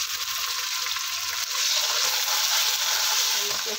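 Onions frying to light brown in a pan for yakhni pulao give off a loud, continuous, hissing sizzle close up, growing slightly stronger partway through.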